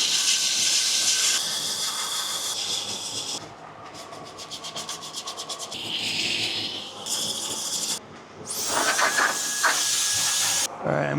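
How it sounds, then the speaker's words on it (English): Wooden cupcake carving being sanded by hand and power tool, with loud hissing, rubbing passes in irregular bursts and short pauses between strokes, close and alone. "Let's go ahead and sand her up."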